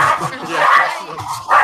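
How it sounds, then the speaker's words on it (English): A dog barks and yips nearby in a few loud, short bursts, with people talking around it. "Sorry, my dog Sounds like a dog."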